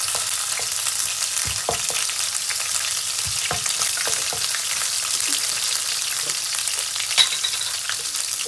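Spring onion fries in a pan as a loud, continuous sizzle with crackling pops, close up and steady throughout, with no voices.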